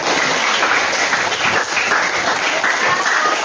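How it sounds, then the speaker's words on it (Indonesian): A class of students applauds at the end of a biology lesson, a steady, loud wash of many hands clapping throughout, with no talk over it. "Tepuk tangan untuk kita."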